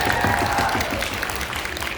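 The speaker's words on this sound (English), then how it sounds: "So let's do a round of applause." Audience applause at a Q&A event, a dense wash of clapping filling the full two seconds at steady loudness, with faint tonal sounds and murmur underneath.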